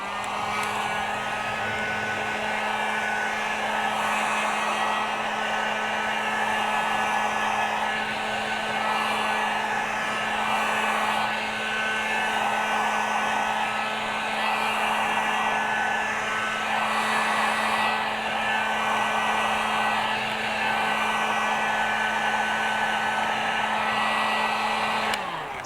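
A heat gun warms a fuel pump part during a Vespa GTS EFI fuel pump rebuild, a loud, steady, close-up blowing drone with a constant whine that holds unbroken for the whole stretch, with no talking.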